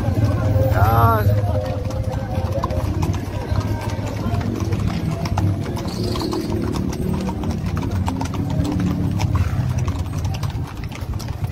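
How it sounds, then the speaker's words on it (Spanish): Horse hooves clip-clop steadily through a cavalcade parade in Uriangato, with many riders joining; a dense crowd murmur and an occasional engine hum sit underneath, and voices chatter nearby. "ya empiezan a incorporarse muchísimo más caballos"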